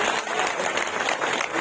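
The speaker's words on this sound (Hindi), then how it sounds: "ताली से स्वागत करने के लिए मैं अनुरोध करता हूँ। ताली स्वागत कीजिए।" Applause from a crowd at a political rally in Chhattisgarh, India, welcoming a politician: steady, loud clapping from many hands throughout the short span.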